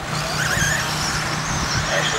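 R/C stock buggies racing around a dirt track, a dense high-pitched whine of small electric motors with skids and passes, heard under a race announcer's commentary.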